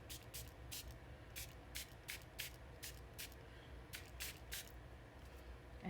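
Water spritzed from a spray bottle onto Brusho pigment on card: about a dozen quick, hissing pumps in an uneven rhythm, close and fairly loud over a steady low background.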